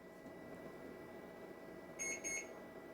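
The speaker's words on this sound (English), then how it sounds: "There's the 2 infamous beeps" A server booting up gives two short, high electronic beeps in quick succession, clear but quiet over a steady fan hum.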